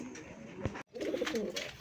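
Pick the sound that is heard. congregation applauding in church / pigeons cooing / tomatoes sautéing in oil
pigeons cooing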